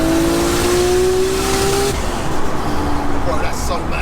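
An 800 BHP Nissan R34 GTR with a 2.8L stroker engine pulls hard from first gear, a loud steady engine tone rising in pitch close by, with people talking over it.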